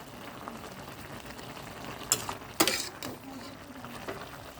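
A pan of curry with puin greens and deshi koi fish bubbling and sizzling softly on the stove, with a few sharp scrapes and clinks of a spoon stirring it, close but quiet.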